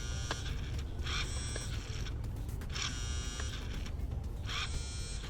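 The steering servo on a Virhuck 1139A 4WD RC crawler whirs in short repeated bursts as the wheels swing side to side, with a steady electric hum underneath.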